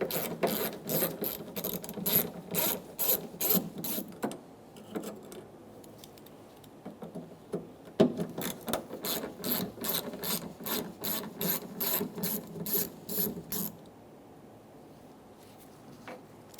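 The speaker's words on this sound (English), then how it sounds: "Using a T20 bit, we're going to remove the 2 screws for the rear view camera." A ratchet driver with a T20 bit backs out rear-view camera screws on a 2014-2018 Chevrolet Silverado 1500, giving two long runs of rapid, close pawl clicks separated by a quiet pause, with no talking.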